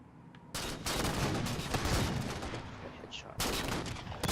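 Halo MCC game gunfire rattles out in dense bursts of rapid shots, loud and continuous with a brief pause between volleys.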